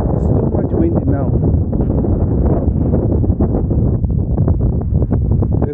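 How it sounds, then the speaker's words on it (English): Strong wind by a canal roars and buffets the microphone continuously, loud and close, with a voice talking underneath. "It's too much windy now."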